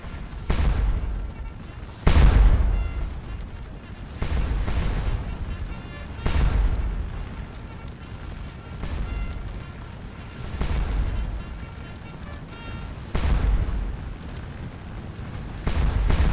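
Cannon fire booming across a Napoleonic battle in a strategy video game, Prussians against French at Wavre, with heavy low blasts landing every two seconds or so and rumbling between shots.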